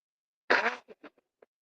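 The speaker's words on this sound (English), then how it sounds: "I'm just getting off camera while I blow my nose" One short, forceful nose blow close by, followed by a few quick faint snuffles.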